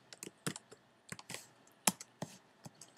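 Brisk typing on a computer keyboard while entering text in Xcode, a quick scatter of sharp close clicks and key taps in an uneven rhythm, quiet and alone.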